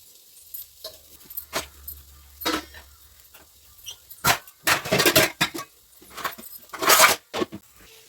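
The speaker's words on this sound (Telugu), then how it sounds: "ఇప్పుడు గిన్నెలని సర్దేస్తండి" Steel kitchen vessels are stacked and put away after cooking, giving irregular metallic clanks and rattles, some close and loud in quick clusters, separated by brief quiet gaps.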